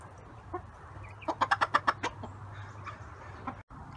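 Backyard chickens give a quick burst of about six rhythmic clucks at close range over a low background hum, followed by a few softer scattered clucks.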